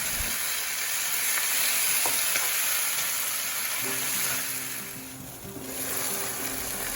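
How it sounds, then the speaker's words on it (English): Pre-marinated mutton frying in a pan with spices for mutton biryani, a loud continuous close sizzle, with a low steady hum joining in during the second half. "you can go ahead and add your pre-marinated meat into the pan and give it a good mix"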